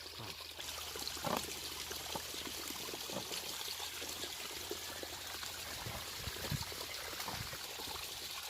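Liquid pours in a steady trickling stream as the agricultural product Rakshak is mixed outdoors, faint and continuous with a few soft splashes and knocks.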